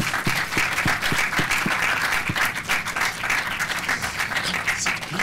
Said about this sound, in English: A round of applause for our winner of the Hive Short of the Month.